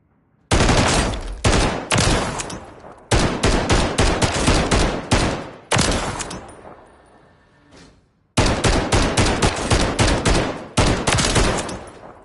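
Long, loud full-auto bursts from a mounted LMG-style build in Call of Duty MW3, fired on a range in rapid rhythmic strings with short pauses between them and one longer gap, close and with no voices.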